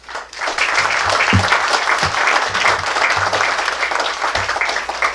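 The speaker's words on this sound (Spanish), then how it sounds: "La recibimos con un fuerte aplauso." Audience applause at a book presentation event, a steady wash of many hands clapping that stays loud and even for about five seconds, with a few low thumps beneath it.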